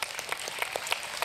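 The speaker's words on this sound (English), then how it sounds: "11 people clapping their hands." A small group of people clapping their hands, a sparse, uneven patter of separate claps at moderate loudness with no voices over it.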